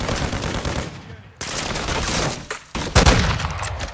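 Rapid automatic gunfire from the video game Modern Warfare II, loud and dense bursts with short gaps, one sharp pause near the middle before firing resumes, heard alone without talk.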